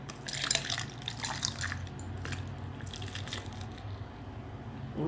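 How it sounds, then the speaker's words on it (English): Coffee poured over coffee ice cubes in a glass, a soft continuous splashing and trickling with faint crackling, fairly quiet and close. "I'm just gonna pour my coffee in here."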